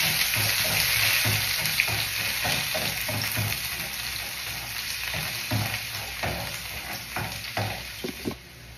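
Onion sizzles in hot cooking oil in a pan, a constant crackling hiss broken by repeated scraping stirs and thumps of a spoon, close and fairly loud.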